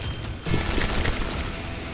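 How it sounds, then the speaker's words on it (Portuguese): A loud burst of rapid gunfire erupts in the Western shooter game Call of Juarez Gunslinger, a dense rattling fusillade that sustains after a brief quieter lead-in. "Onde tá vindo tiro?"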